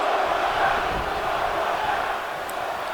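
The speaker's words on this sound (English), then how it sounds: "The crowd chanting one more time." A wrestling arena crowd chants steadily during a match, a dense, loud, continuous roar of many voices throughout.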